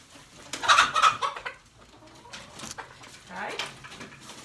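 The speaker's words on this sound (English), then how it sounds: "One of the chickens." A chicken clucks in short bursts nearby, a few sharp calls early then softer clucking, with a voice faintly in the background.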